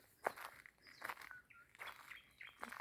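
A nightingale sings in short, bright chirping phrases at moderate distance on a quiet early-summer evening, with faint footsteps on a path between the calls.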